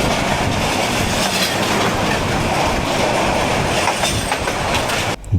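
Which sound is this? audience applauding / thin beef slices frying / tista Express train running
tista Express train running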